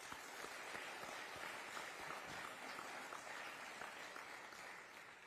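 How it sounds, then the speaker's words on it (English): Faint, distant applause from an audience at a middle school eighth grade ceremony, a dense patter of clapping that holds steady and then tapers slightly. "please give your families and your parents a large round of applause"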